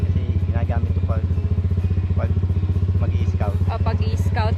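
A motorcycle engine runs steadily throughout with a strong, even low throb, close and loud, while people talk over it.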